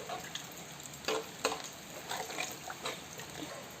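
Sardine curry stirred in a pan just after water goes in, with a soft bubbling sizzle broken by a few irregular scrapes and clinks, close but faint, with no talking.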